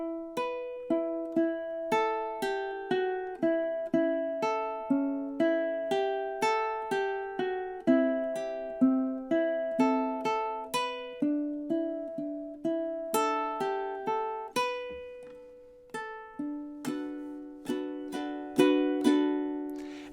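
Ukulele plucking out the melody of a song in a steady rhythm, with clear ringing notes and strummed chords, played close and alone without talk.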